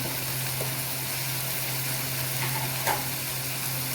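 Green onion and carrots stir-fry in a pan, giving a continuous close sizzle with a few light scraping stirs and a faint steady hum underneath.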